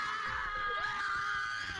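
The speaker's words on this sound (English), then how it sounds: "Everyone scream with me!" Several game players screaming together over voice chat in an online lobby, a dense continuous burst of shrill yelling for about two seconds.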